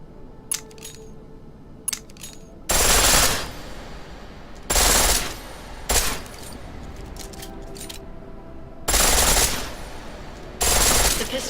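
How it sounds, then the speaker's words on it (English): A pistol firing in full auto in the video game Deus Ex: Mankind Divided: several loud, sharp bursts, each about half a second long, spaced a few seconds apart with quiet metallic clicks between them. "The pistol in full auto will take down targets fast, but it'll burn through your ammo."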